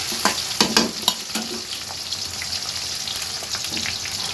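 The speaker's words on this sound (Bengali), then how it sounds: "তো এটা একটু আমি ভাজা ভাজা করে নেব" Food sizzles and crackles steadily in a hot pan of oil with chickpeas as part of an evening snack, and a few stirring clicks come near the start. The sound is close, continuous, and there is no talking.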